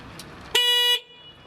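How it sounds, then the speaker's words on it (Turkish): Car horn of a student-built electric race car at a high-school electric vehicle race event in Turkey, one loud steady honk lasting under half a second, close by, with a faint background hum before and after. "Hep kornamı gösteriyorum."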